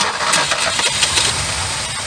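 A 1976 Ford F150 left abandoned for over 30 years cranks and catches, its engine sputtering into a rough, loud running idle close by.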